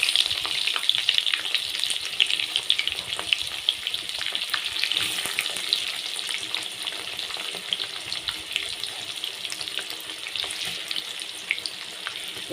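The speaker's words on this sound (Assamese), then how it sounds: "পিঁয়াজখিনি ধুনীয়াকৈ মই ভাজি ল'ম" Onions sizzle steadily in hot oil in a pan for a chicken and pumpkin curry, with garam masala added just before, a close, continuous crackling fry with light stirring and no talking.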